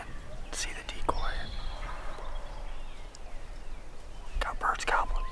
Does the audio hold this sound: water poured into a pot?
no